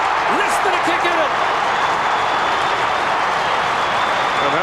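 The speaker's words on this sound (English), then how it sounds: "And have a listen to the crowd here." A football stadium crowd roars loudly after a St Kilda goal, a dense sustained wall of cheering with a few whistles over it.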